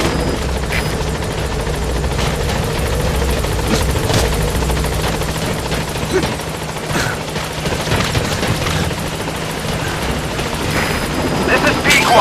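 A support helicopter arrives at a landing zone in Metal Gear Solid V with a loud, steady rotor thump and engine roar that fills the whole stretch, while a radio voice talks over it.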